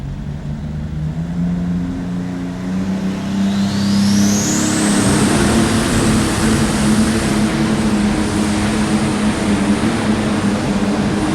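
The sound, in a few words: tractor pull tractor engine revving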